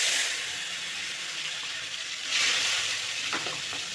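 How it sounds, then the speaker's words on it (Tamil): Bitter gourd fries in hot oil with a dense, even hiss that swells briefly partway through, close and steady, with a few faint clicks near the end and no talking. "பாவக்காய் எடுத்து எண்ணெயில் நல்லா வதக்கிடுவோம்."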